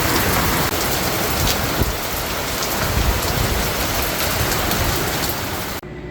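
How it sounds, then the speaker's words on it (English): Heavy rain pours steadily during a storm in an urban backyard garden, a dense, loud, continuous hiss of drops hitting surfaces nearby, with no voices. "Just sitting outside, enjoying the storm."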